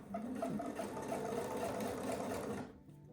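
A sewing machine runs in one steady, fast mechanical whirr while stitching a seam in a quilt top, then stops abruptly near the end, leaving a quiet room.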